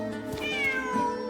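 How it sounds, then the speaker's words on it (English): A single drawn-out cat meow from the video game Genshin Impact, clear and close, rising then falling over about a second, heard alone with no talking. "Wait, there it is! The cat!"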